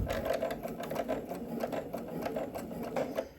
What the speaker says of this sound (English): let's get this sewn in place